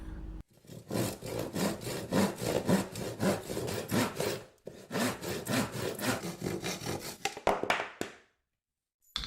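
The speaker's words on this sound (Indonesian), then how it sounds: "Sebelum menggergaji" A handsaw cuts through wood as a sound effect within a narrated story, with steady rhythmic back-and-forth rasping strokes, a brief pause midway, then a few final strokes before silence.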